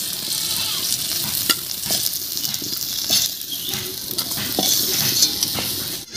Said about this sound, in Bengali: এবার এই মাছ ভাজার তেলের মধ্যে আলুটা আমি ভেজে নেব হালকা করে।